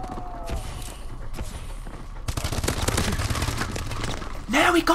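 Gunshots in Call of Duty Advanced Warfare Search and Destroy, scattered shots then a denser run of rapid fire and a final loud burst, mixed with game noise and a voice.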